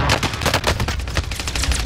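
Rapid bursts of assault rifle fire from a first-person shooter video game crackle continuously and loudly, a dense automatic rattle with no talk over it.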